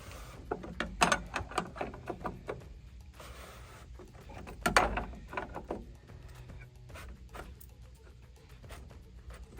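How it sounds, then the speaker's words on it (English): Wrench tightening a part on a truck, a series of close, sharp metallic clicks and ratcheting taps in irregular bursts, louder early and thinning out toward the end. "And then you use the handy dandy wrench."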